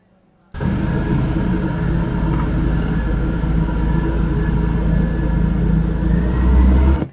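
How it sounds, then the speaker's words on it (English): A truck drives past on a residential street, a loud, steady engine rumble with broad road noise that starts abruptly and swells slightly toward the end over about seven seconds, with no talking. "That is a truck, not an Elantra."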